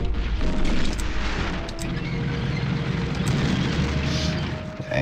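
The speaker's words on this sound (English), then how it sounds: "We can take this artillery out now." An artillery unit is destroyed in the Panzer General II war game, with rolling booms, a crackling fusillade of shots and crashing impacts layered over a continuous rumble.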